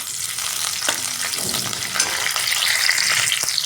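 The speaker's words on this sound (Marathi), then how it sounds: "चला तर आता मिडियम गॅसवर ह्याला पण चांगला पण फ्राय करून घेऊया" Sliced onions frying in oil over a medium gas flame, a steady close sizzle and crackle with occasional scraping and stirring sounds, heard alone without any talking.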